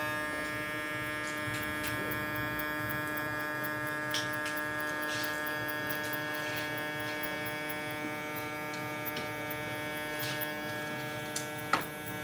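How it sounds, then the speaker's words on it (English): An electric hair clipper with an Echo Crunch blade closed all the way runs steadily with a close, even mechanical buzz and hum that holds without pause from start to finish. "Close it all the way. That's the Echo Crunch blade. And I want you guys to listen to it."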